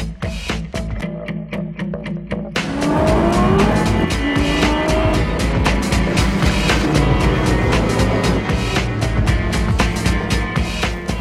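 Race cars, including Aston Martins, roar past on the Nürburgring during a 24-hour race, engines whining and rising in pitch, with repeated loud passes and a constant crowded din of motors.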